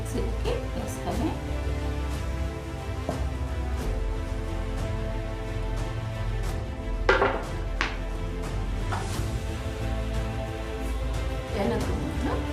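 Rose apples being cut into pieces for juice in a kitchen, with soft clinks and knocks of a knife and dishes against steady background hum, a few sharper taps standing out.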